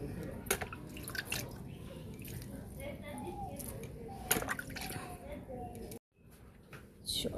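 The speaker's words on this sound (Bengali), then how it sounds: "গাছগুলো একটু জল দিয়ে নিই।" Water poured onto potted garden plants drips and trickles in scattered splashes, moderately close and soft, with a brief pause before it resumes and voices talking now and then.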